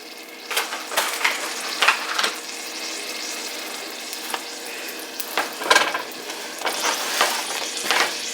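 Defrosted shrimp and other ingredients cook together in a single pan, a steady sizzle broken by repeated scraping stirs and light clatter, close and fairly loud.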